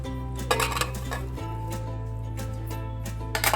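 Cauliflower pieces are stirred into a thick batter, with a spoon scraping and clinking against a bowl in quick irregular knocks over a steady background hum.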